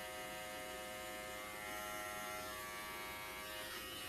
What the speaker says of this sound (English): They want to know what clipper you're using right now.